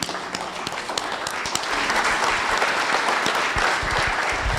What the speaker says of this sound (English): give a very big clap and a thank you for everybody